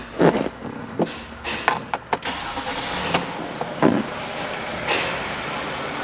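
A warm Mercedes Sprinter van with the 642 diesel engine is started: several sharp clicks and key jingles, then brief bursts of cranking and a short catch before a low, quieter idle.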